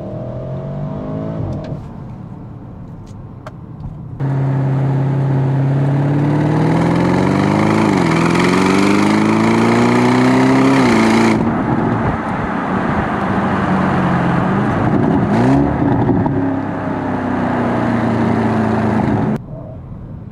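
A 2021 Audi RS 6 Avant at full throttle with traction control off: the engine idles, then roars up through the revs in loud rising pulls, with quick gear changes, before dropping back toward idle.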